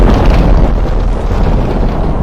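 A loud, dense roar of Minecraft firework rockets bursting, a continuous rumbling blast-like wash with no gaps, alone without any voices.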